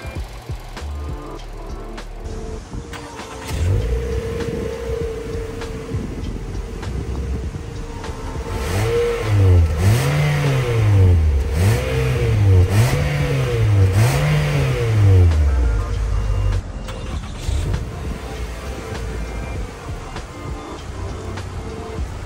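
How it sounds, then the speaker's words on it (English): A 2024 Nissan Altima SV engine idles and then revs repeatedly in rising and falling bursts, loud and close, with a constant hiss around it. "So there's a look at the brand new engine running."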